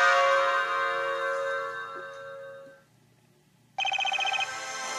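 A bell rings in the Professor Layton vs. Phoenix Wright game: a loud sustained chime that slowly fades into near silence, then a brighter rapid trilling ring starts abruptly and keeps going.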